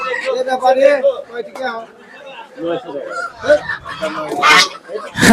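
Many chickens cluck and squawk in a busy crowd at a village market, loud and close, with people talking among them.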